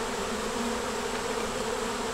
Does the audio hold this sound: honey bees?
yes